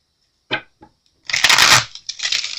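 Tarot cards being shuffled, two quick soft taps followed by a loud riffling burst and a shorter trailing shuffle, close and alone.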